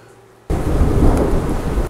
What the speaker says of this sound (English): we're getting a big thunderstorm right now, so you may be hearing some thunder there in the background